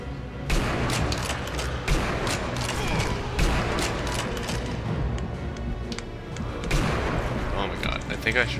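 Gunfire in the Sniper Elite V2 game: a sniper rifle shot among several sharp booms and bursts, loud and repeated over busy in-game noise, with someone talking throughout.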